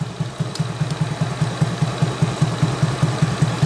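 A carbureted Beat motorbike engine with a GK carburetor idles while warm, with a steady, even, low putt-putt pulse of close, loud exhaust beats and no speech.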